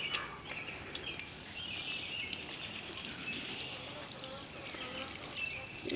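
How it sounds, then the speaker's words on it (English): Water from a watering can splashes and trickles onto garden containers in a steady, moderately quiet pour outdoors, with faint bird calls in the background. "I'm gonna water them in with my handy dandy watering can here"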